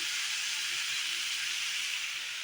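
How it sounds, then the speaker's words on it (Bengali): Potatoes and pointed gourd fry in hot oil with a steady, continuous sizzle and hiss, close and even throughout with no talking. "এখানে আলু আর পটলগুলি ভেজে নিচ্ছি"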